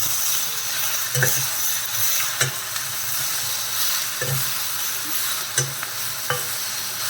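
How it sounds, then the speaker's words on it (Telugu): Chopped tomatoes with coriander seeds and cumin fry in a pan for a butter chicken curry, a steady bright sizzle broken by occasional stirring clinks and scrapes, close and alone with no talk. "ఇవి ఒక 5 నిమిషాలండి ఫ్రై అయితే చాలు."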